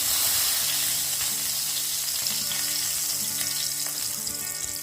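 Spoonful of ghee heating in a frying pan for chicken biryani, a close, bright crackling sizzle that runs steadily with faint scattered pops and a low hum beneath.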